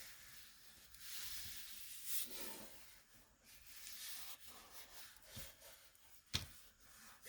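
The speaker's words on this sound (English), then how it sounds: "Get this all rubbed down good, and we'll give it a cut." Paper being rubbed down by hand for journal ephemera, a faint, close, continuous scratchy scrubbing in uneven strokes, with one brief tap near the end.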